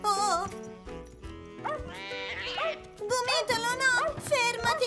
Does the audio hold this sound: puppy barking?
yes